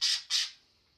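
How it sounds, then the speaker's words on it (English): A pet budgie, about eight years old, lets out two sharp, close squawks in quick succession, then goes quiet with only a faint hiss left. "She's doing a bit of squawking."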